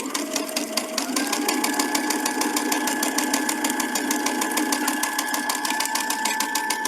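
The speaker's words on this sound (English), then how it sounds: "we'll get started stitching" Sewing machine stitching a quilt block, a loud, close, fast even chatter of the needle running continuously, its motor pitch rising slightly after a brief start.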